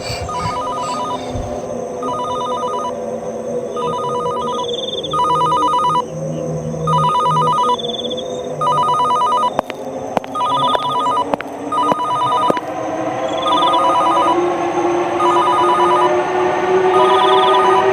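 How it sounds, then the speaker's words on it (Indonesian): A telephone in the video game Sakura School Simulator rings repeatedly in evenly spaced electronic trills over a steady droning background hum, with a few sharp clicks partway through. "Panggilan itu berdering lagi"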